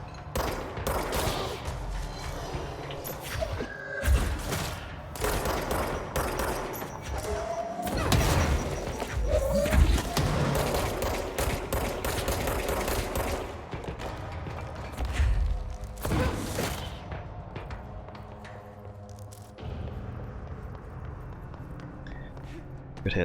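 Gunfire and rocket blasts crash through combat in Control, with heavy booms and bursts of shots spread across a long stretch while someone talks at times over the action.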